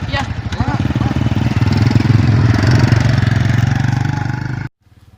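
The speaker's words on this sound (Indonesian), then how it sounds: "Tuh aya motor geuning." A motorcycle runs close by on a village road, its steady engine drone swelling loud and holding for several seconds before cutting off abruptly, with faint voices in the background.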